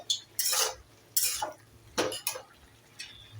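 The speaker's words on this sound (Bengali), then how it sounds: "লাউ শাকের মধ্যে হলুদ, নুন আর লঙ্কা গুঁড়ো দিয়ে দিয়েছি, ভালো করে মিশিয়ে তারপর ঢাকা দিয়ে রেখে দেবো।" Bottle gourd greens mixed by hand or spoon with turmeric, salt and chili powder, heard as a few separate bursts of rustling, scraping strokes against a metal bowl, close and with short pauses between them.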